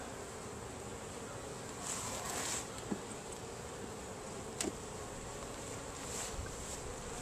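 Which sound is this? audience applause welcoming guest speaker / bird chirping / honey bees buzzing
honey bees buzzing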